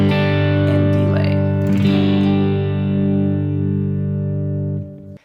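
Electric guitar chord ringing out with heavy reverb and delay, sustaining smoothly for several seconds before cutting off abruptly.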